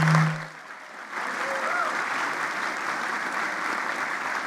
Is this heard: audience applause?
yes